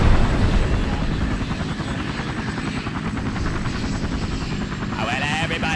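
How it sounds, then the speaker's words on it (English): Military helicopter rotor chopping in the game Battlefield Vietnam, a loud, close, continuous throbbing whir with radio-style voices over it. "Hostile chopper spotted, over."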